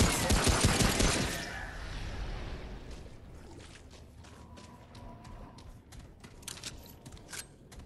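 Enemy gunfire rattles in the video game Remnant: From the Ashes, a loud burst of rapid shots at first, fading into scattered, fainter pops over a low background.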